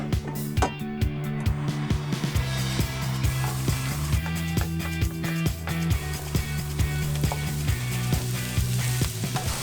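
Onion and mushrooms fry in a pan at an outdoor campervan cooking spot, a steady bright sizzle running throughout, with repeated rhythmic clinks and scrapes of a utensil stirring against the pan close by.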